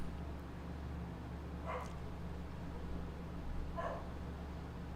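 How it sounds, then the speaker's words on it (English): A dog barks outside, two faint, distant barks a couple of seconds apart over a low, steady indoor hum. "A dog barking."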